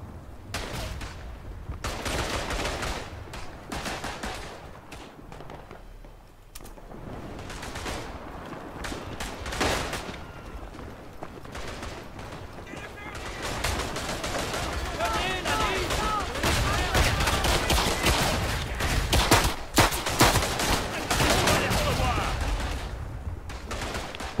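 Dense gunfire from the World War I video game Verdun, Artois map: rifle shots and machine-gun bursts crackling continuously, some near and loud, others distant, building in intensity, with occasional voices mixed in.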